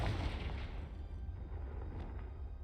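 A Confringo blasting spell goes off in Hogwarts Legacy, opening with a loud, broad explosive burst whose rumble holds for a couple of seconds and then thins slightly, with no talk.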